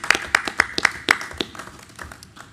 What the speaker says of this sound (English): So round of applause for Carsville and Mrs. Hubble.